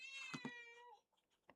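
A single drawn-out cat meow, close and fairly clear, heard alone and followed by quiet.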